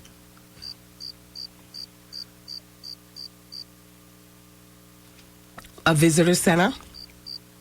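Crickets chirp in steady, evenly spaced pulses behind a radio talk show, briefly drowned out by a loud burst of voice before the chirping resumes.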